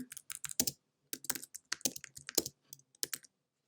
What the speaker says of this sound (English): So I'm just going to write in a random